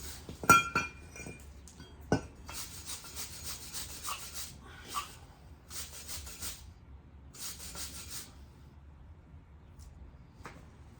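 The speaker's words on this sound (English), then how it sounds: "You hear me hitting the chunks of rust." A tool scrapes and knocks chunks of rust off the front brake parts of a 2001 Lexus RX300. Sharp metallic clinks come first, then short bursts of gritty scraping spread across the clip, close and moderately quiet.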